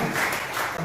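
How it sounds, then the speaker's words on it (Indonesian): Church congregation applauding during a family blessing service in Bali, a brief steady wash of clapping from many hands. "tepuk tangan bagi Yesus"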